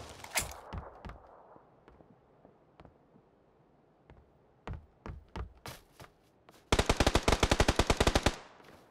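Video game gunfire: scattered single shots crack through the first seconds, then a sustained rapid automatic burst fires near and loud for about two seconds before stopping.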